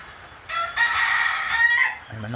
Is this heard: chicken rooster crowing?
yes